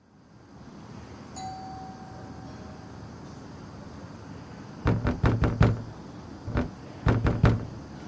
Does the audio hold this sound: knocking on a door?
yes